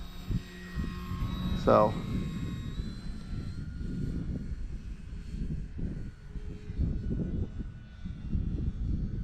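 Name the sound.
E-flite Clipped Wing Cub RC plane flying aerobatics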